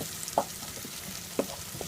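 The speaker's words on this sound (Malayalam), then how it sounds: "ഈ വെജിറ്റബിൾസിനെ നമുക്ക് 1-2 മിനിറ്റ് മീഡിയം ഫ്ലെയിമിൽ വെച്ച് വഴറ്റിയെടുക്കാം." Vegetables for chilli chicken sauté quietly over a medium flame, a faint sizzle broken by two soft spatula scrapes against the pan.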